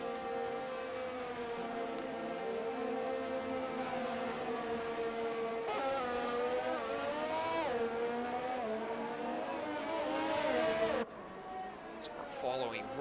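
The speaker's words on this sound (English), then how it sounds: "So we have the first couple of cars out on the track." Race cars run at Monza in a racing video game, with loud, high engine whines that rise and fall through the gears, sharp shifts, and a voice talking over the din.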